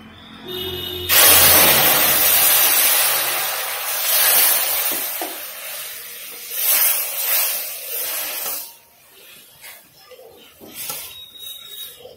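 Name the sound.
water added to hot caramel, sizzling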